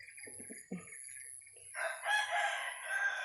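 A fighting-cock rooster at a Thai yard crows loudly near the end after a few soft clucks and faint rustling, with fowl calls mixed into the crow.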